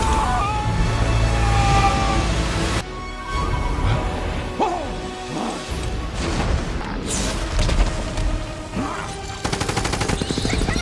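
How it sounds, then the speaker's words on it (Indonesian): A water explosion bursts from a pipe hole in the animated film Rango, heard as loud booming blasts and crashing debris over a rumbling score, with sharp rapid cracks near the end. "membuat ledakan air dari dalam lubang yang telah tersambung ke pipa pinggiran kota"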